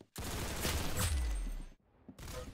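Gunfire from a competitive one-on-one match in the Roblox game Arsenal, a dense, loud burst of rapid shots lasting well over a second, a brief gap, then more shooting resuming; no talking.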